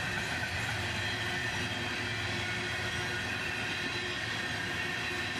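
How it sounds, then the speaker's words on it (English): A BNSF locomotive hauls a loaded coal train out in November, a steady heavy rumble of wagons rolling past with faint wheel squeal, loud and continuous throughout. "We would also catch a November coal train with a BNSF locomotive leaving."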